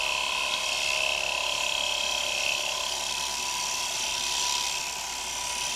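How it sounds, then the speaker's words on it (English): A wood lathe spins steadily while a gouge takes a slow final cut during a woodturning demonstration, giving a continuous even whir and hiss of wood being shaved with no pauses. "Now I'm going nice and slow, bevel floating, letting the lathe do the work."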